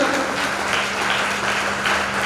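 Audience applause at a large spiritual congregation gathering: broad, continuous clapping from many hands, steady and fairly loud, with a low hum underneath.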